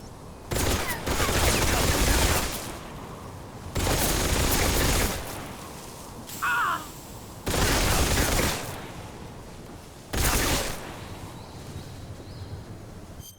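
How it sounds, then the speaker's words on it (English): Bursts of gunfire in the Metal Gear Solid Delta: Snake Eater video game, several loud sustained volleys separated by short pauses, with a brief chirp between them. "Your gunshot."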